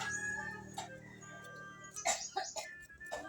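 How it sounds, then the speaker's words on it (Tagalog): A chicken clucks close by in a few short bursts near the end, against a quiet outdoor backdrop with faint steady hum. "Alis ka dyan, manok. Wala ka namang makakain dito, ha?"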